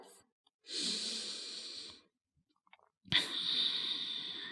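Slow, deep breaths during a yoga flexibility session for side splits, a long exhale followed by a pause and then another drawn-out breath, close and soft with no talk.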